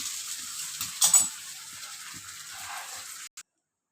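Kuzhi paniyaram and a small dosa cook in a pan with a soft, steady sizzle and a couple of light clatters, close by, before the sound cuts off abruptly.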